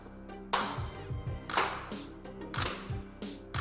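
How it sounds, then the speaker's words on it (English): Several people clap their hands in loose bursts, like a gospel choir, during an indoor photo shoot. The claps are fairly close and uneven, arriving in irregular clusters with no talking. "I want you to clap as though you are in a black gospel choir."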